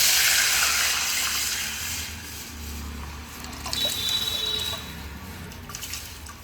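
Soaked rice and its soaking water pour into a pot for jeera rice, a close, brief splashing gush followed by softer trickling and settling.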